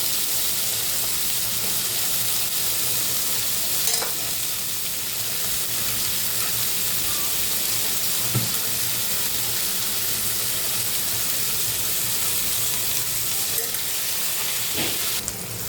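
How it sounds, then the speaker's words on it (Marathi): Raw beans sauté in a pan, a steady, even sizzle and crackle filling the whole stretch, with occasional soft clinks of a spatula stirring them. "बीन्स कच्चेच आहे त्याच्यामुळं थोडं 2 ते 3 मिनिटं छान परतून घेऊया, म्हणजे बीन्स छान शिजले जातील."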